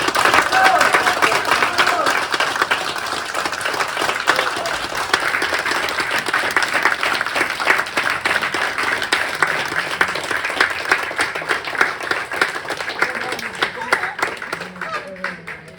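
A theatre audience applauds the final curtain call of an amateur stage play at a care home, a dense, steady clapping that carries on loudly throughout with a few voices mixed in.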